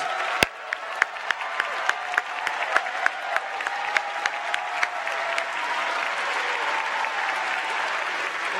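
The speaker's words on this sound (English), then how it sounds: "let's have a big round of applause for those supporters" A large commencement audience stands and applauds supporters at a university fall graduation ceremony, a loud sustained wash of clapping with scattered sharper claps and some cheering, steady throughout.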